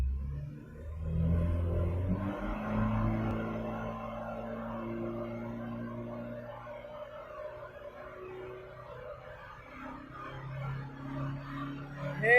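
A car engine driven in gear surges unevenly, a low rumbling drone that swells and dips over several seconds, moderately faint and steady with no talk.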